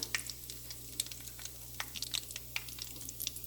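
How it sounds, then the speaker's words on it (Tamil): Sliced radish sautés in a hot pan for a stir-fry, a steady close sizzle broken by frequent sharp crackles and pops as it is stirred. "கொஞ்சம் வதங்கட்டும்"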